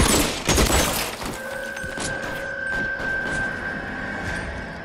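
Gunfire in LA Noire bursts as a dense, close volley of shots in the first second, then thins into a steady ringing hum with a few distant pops.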